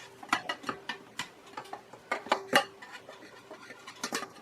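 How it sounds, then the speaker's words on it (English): Banana cake batter is scraped from a bowl into a baking pan, producing a quick run of light metallic clinks and taps from a utensil against the bowl and pan edges. "And then put it in the pan and hope for the best."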